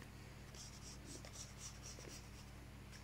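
A diagram of an electrical pole support drawn by hand, with a pen scratching out short strokes in quick bursts, close but faint over a steady low hum.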